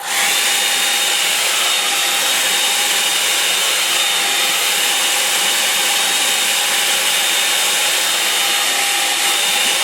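A hair dryer drying a painting blows a loud, steady whoosh with a faint high whine, running close and unbroken from start to finish, with no talking.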